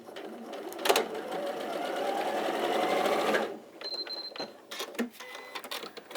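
A domestic sewing machine stitches fabric at a quarter-inch seam setting in a quilting demonstration, running in a steady whirring burst for a few seconds, then stopping before several short clicks and bursts as the work is adjusted.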